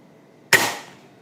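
A single quiet shot from a B-Zad Klein PCP air rifle in .177 caliber fired indoors, a short sharp crack fading quickly into silence.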